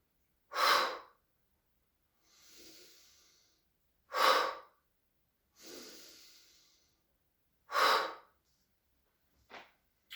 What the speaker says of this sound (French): On relâche, on respire 3 fois.